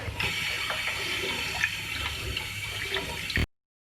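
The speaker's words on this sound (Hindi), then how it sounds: "हमारी यखनी में बॉयल आ चुका है" Beef stock (yakhni) for Muradabadi beef biryani boiling in a pot, a steady broadband bubbling and hiss held close and even for about three seconds, with no voices.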